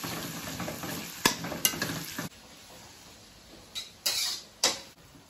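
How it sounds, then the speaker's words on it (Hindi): Vegetables stir-fry in a pan for chowmein, a crackling sizzle broken by sharp scraping strikes of a spatula, quieter for a stretch in the middle before more loud scrapes near the end. "इधर हमारी सब्जियां जो है कच्ची पक्की भुन चुकी है"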